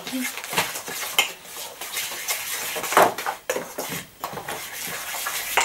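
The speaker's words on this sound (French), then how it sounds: "Allez, touillons, touillons, touillons." Utensil scraping and clinking against a bowl while batter is stirred for a cake, a busy, continuous clatter with irregular knocks, close to the microphone.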